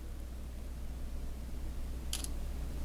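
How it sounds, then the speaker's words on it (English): A single quick camera shutter click from a Moto Edge Plus 2022 phone, short and crisp near the end over a steady low background hum. "let me take a picture of something real quick just to test this shutter speed real quick"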